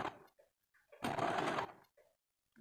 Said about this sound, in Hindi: ऐसे करके धीरे धीरे करके सिलाई करनी है।